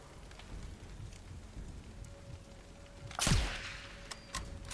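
Rain falls steadily in the Sniper Elite 5 video game as a soft, continuous patter, broken near the middle by one sharp loud crack and a few fainter clicks.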